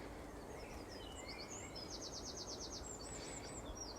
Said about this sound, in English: And there's birds and insects.